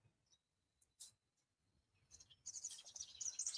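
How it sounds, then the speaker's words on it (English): Faint, scattered bird chirps at first, growing into denser, louder high twittering toward the end, with some soft rustling in the background. "you can hear the birds chirping"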